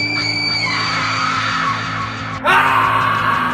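Drawn-out terrifying scream ringing through a dark tunnel, high and sustained, then jumping abruptly to a louder, harsher shriek over a low rumbling background.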